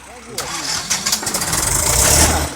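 A YuMZ tractor engine started by its pony starter engine, with no battery fitted: a sharp rattling burst, then a steady loud mid-pitched chugging that builds and thickens as it runs up, with people talking over it.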